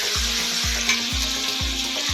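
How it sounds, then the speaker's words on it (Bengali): Ginger and garlic sizzle in hot oil over a lowered gas flame, a constant bright crackle broken by regular low knocks from stirring about every half second. "আদা রসুনটা দিয়ে একটু তেলের মধ্যে ভালো করে একটু ভেজে নেব"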